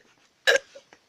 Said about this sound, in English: This is us having a burping competition